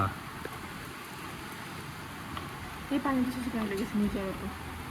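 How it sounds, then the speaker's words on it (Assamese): Rain pours down outside in a steady, even hiss, heard from indoors at a moderate level while a voice speaks over it in the second half. "এই বাহিৰত কি ধুনীয়া বৰষুণ দি আছে চাওক"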